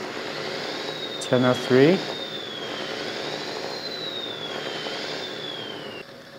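Simulated truck engine from a 3T sound module for RC trucks, a steady synthetic drone with a slowly wavering whine, briefly joined by a short horn-like tone near the start while someone speaks over it.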